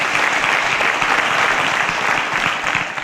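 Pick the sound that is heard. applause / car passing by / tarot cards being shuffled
applause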